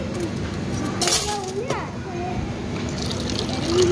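Water runs from a drinking water dispenser into a cup with a brief gurgling fill and a light clink, while a person talks over it.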